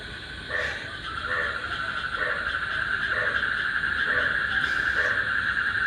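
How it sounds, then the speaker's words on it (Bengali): Frogs call outside at night after rain, heard from a balcony. Soft, evenly spaced croaks sit within a steady high drone of insects, fairly distant, with no voices. "দেখেন বাইরে ব্যাঙের ডাক, ব্যাঙে ডাকতেছে।"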